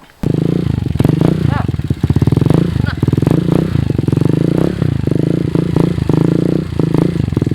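A motorcycle engine runs close by with a rough, rhythmic putter and some rattling, steady and loud for several seconds after a brief quiet start.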